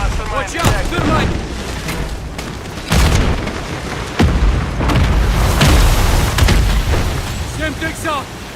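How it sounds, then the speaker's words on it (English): Thermite grenade blasts in a shooter game, several loud booming bursts and crackling explosions in a chaotic firefight, with shouted voices over the action. "Watch out! Thermite!"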